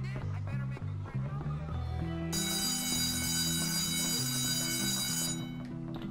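A continuous electric school bell rings loudly for about three seconds in the Bully video game, cutting in over background music and ambient game sounds.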